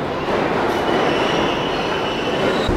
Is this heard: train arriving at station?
yes